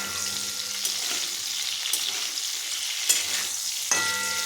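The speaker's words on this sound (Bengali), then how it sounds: "ফুলকপি ভাজা হচ্ছে, ফুলকপি পাতে দেওয়ার জন্য ফুলকপি ভাজা" Cauliflower sizzling as it fries in a pan in a home kitchen, a steady low hiss with occasional sharp clinks and pops, fairly close and with no talk.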